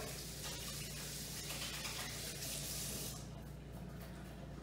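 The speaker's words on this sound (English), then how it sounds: "let me rinse my hands real quick" Water runs steadily from a kitchen tap as hands are rinsed under it, a soft continuous splash that shifts in tone near the end.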